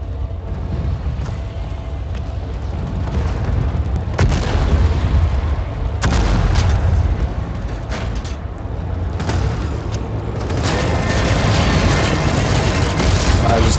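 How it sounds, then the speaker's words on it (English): Vulcan cannon fire in the video game Planetside 2, heavy booming bursts and rumbling impacts over a dense, loud battle background, with sharp transients near 4 and 6 seconds. "I shot him! With my Vulcan! I'm shooting foot-long bullets at people"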